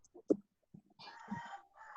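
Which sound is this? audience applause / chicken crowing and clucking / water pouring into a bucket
chicken crowing and clucking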